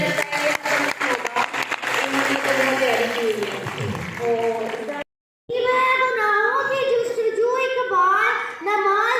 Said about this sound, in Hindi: माशाल्लाह जी, इनके लिए तालियां होनी चाहिए।